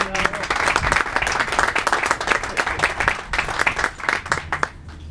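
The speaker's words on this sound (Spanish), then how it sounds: "también les pido un aplauso para él" Audience applause for Emanuel Hernández at a book presentation, a crowd of individual claps with distinct hand strikes, lively and sustained before thinning out near the end.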